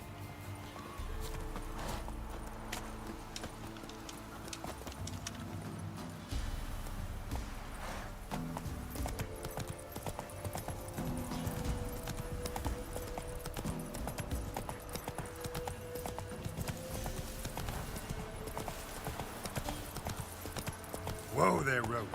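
Roach the horse from The Witcher 3 gallops with steady clip-clop hoofbeats and occasional whinnies, set against game music and ambient noise, with someone talking over it at times.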